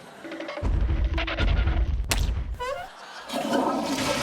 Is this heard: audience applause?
no